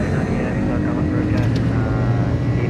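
Airbus A300 jet engines from the iniBuilds flight simulator spool up to takeoff power, a loud, steady broadband roar with a deep low rumble that holds evenly from start to end.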